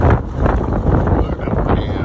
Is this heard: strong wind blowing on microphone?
yes